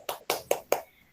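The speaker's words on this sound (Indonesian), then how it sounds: "tepuk tangan dulu untuk kita semua" A classroom of students claps four quick, sharp claps in an even rhythm, close and crisp, then falls quiet.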